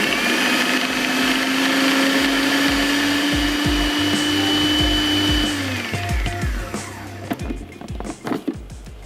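A blender whirs loudly and steadily, mixing a chicken meatball mixture, then winds down after about six seconds. Rattling knocks and clunks of the jar and mixture follow as the motor stops.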